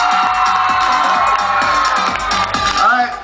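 Live audience at a dance contest cheering and whooping for a contestant: a dense, loud wash of crowd noise with shouts and a rhythmic pulse underneath, sustained throughout, with voices mixed in.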